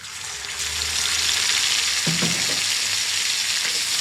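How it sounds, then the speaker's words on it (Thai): Beef being stir-fried with chopped garlic in hot oil in a wok gives a loud, continuous close sizzle, with a short burst of stirring and scraping partway through. "ผัดเนื้อจนสุกกำลังดีนะคะ ผัดไปเรื่อยๆ จนกว่าน้ำของเนื้อจะออกค่ะ"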